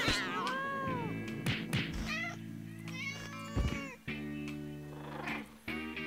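A cat in No More Heroes 2 meows repeatedly, several clear drawn-out mews near and loud over a sustained game music bed.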